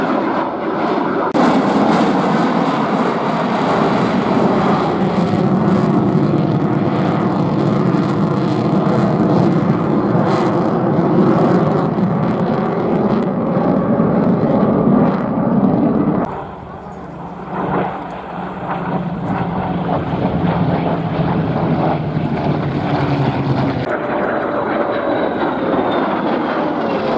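A large fly-by-wire aircraft flies a display maneuver at an airshow, its engines producing a loud, sustained broadband roar that dips briefly midway and then swells again, with a commentator speaking over the top throughout.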